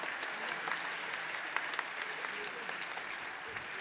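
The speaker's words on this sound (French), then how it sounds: "Alors on applaudit Buddy, mesdames et messieurs" An audience at a New Year's greetings ceremony applauds, sustained even clapping from a large crowd heard at a moderate distance, with occasional sharper claps standing out.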